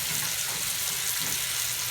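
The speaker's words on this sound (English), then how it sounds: "Saute up these onions." Onions sauté in a pan while preparing porterhouse steak and chicken with yellow rice, a steady, even sizzle with no break.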